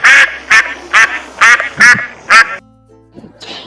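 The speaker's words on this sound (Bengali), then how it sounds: "এটা হলো হাঁস। হাঁসকে ইংরেজিতে বলে ডাক।" A series of six loud, evenly spaced duck quacks, each a short harsh burst, followed by a brief quieter honk at the end, heard alone without talking.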